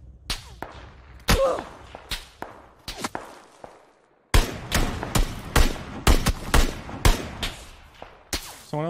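Gunfire in PUBG, solo mode, with a SCAR and Kar98k in play: sharp cracking shots fire in scattered bursts, trailing off into a short silence, then denser volleys resume, loud and close.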